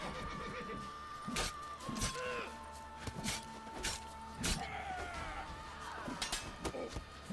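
Horse from The Witcher 3 whinnies and snorts close by while its hooves clop along, with sharp clinking impacts and faint ambient game sounds between the calls.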